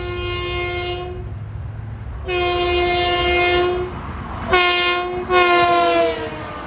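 An LIRR train, number 1060, passes while deadheading to Ronkonkoma, its horn sounding loud in several long blasts with short gaps, over a steady rumble of the passing cars.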